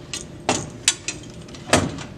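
Emergency door on a voting machine being unlocked and its silver flap pushed down, a short series of close, sharp metallic clicks and clacks with brief pauses between them.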